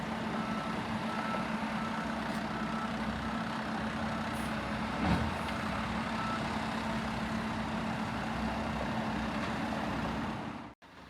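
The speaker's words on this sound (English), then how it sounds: "all those trucks going by in the background, they are hauling away the spoiled ballast and muck from further down" Dump trucks hauling away spoiled ballast and muck at a railroad yard switch replacement, a continuous rumbling engine drone with a steady whine, distant and constant for several seconds.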